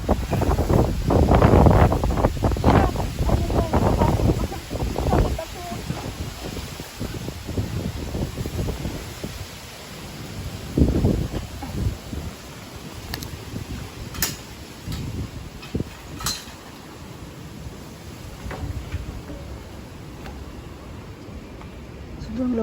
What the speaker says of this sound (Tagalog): Sobrang lakas talaga ng hangin, guys.